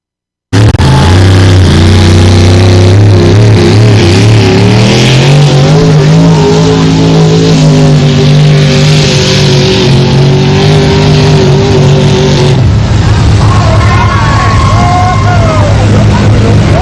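Loud, steady engine roar from a tractor working under load at a community tractor weight pulling contest, pitch climbing as it revs and then shifting near the end, with no talk over it.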